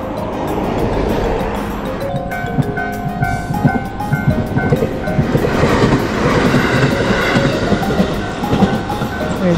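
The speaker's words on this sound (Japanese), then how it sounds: "列車は早いな。" A JR train passes close by along the line near Sakaide, a steady roaring rumble with rhythmic clattering wheels that builds and stays loud throughout, a sustained tone layered over it.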